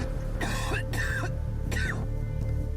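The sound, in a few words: people coughing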